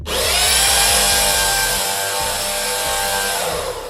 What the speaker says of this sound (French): bruit strident de perceuse ou cri d'enfant qui résonne, effet sonore brutal